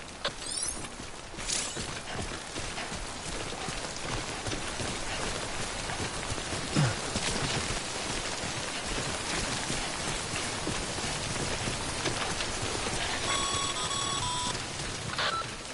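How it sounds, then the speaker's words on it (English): Timefall rain from the Death Stranding video game pours down as a steady, dense hiss, with a few faint electronic beeps near the end. "Don't stay out in the rain any longer than you have to."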